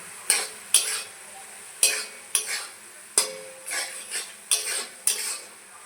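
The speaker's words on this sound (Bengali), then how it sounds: "ভালো করে একটু ভেজে নেব।" Turmeric, chili and cumin powders fry in a pan, with a spatula stirring and scraping in a quick irregular rhythm of about nine crisp metallic strokes over a faint sizzle.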